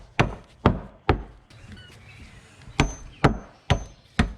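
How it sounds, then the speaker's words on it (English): The broad side of a hammer bashing a block of dry ice, a series of sharp, loud, close whacks in an uneven rhythm, about eight strikes with a short pause in the middle. "so I find this works best with the broad side of the hammer, and I am literally going to just bash this."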